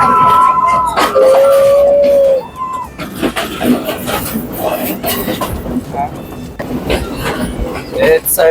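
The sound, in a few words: train ride interior, Sri Lanka Ella to Nuwara Eliya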